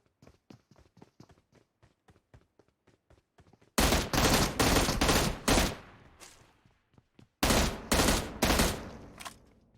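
Gunfire in PUBG Mobile: a run of evenly spaced single shots, then two loud, dense bursts of rapid automatic fire separated by a short pause, close and dominant with no talking.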